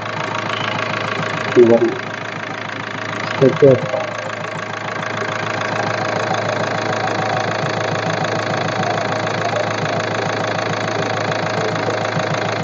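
A 2013 Hyundai Verna diesel engine idles steadily and close by, a low continuous rumble, with a couple of brief voice-like bursts early on.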